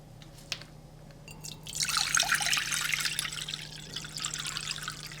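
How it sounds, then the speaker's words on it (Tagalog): Water runs and splashes in a sink as string beans (sitaw) are washed, starting with a few drips and then swelling into a steady, close trickling rush that lasts to the end. "And then, hugasan muna natin."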